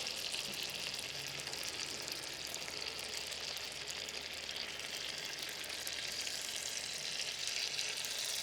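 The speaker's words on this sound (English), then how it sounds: "hear that good sizzle?" Steady, even sizzling of pineapple frying in a Dutch oven, a dense crackling hiss that continues without pause and without talk.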